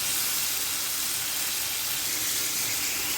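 Eggplant sautés with tomato and salt in a pan, a steady broadband sizzle and hiss that carries on unbroken and fairly loud throughout, with no voice over it.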